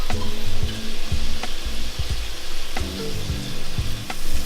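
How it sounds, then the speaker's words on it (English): Mushrooms sizzle and fry in a pan after beer has been boiled off, a loud continuous crackle close up with occasional stirring knocks and scrapes. "We're going to throw our other mushrooms back in."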